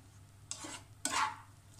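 Eggs are stirred in a cooking pan, two distinct scraping strokes of a utensil across the pan over a faint low sizzle, quiet and close, with no talk.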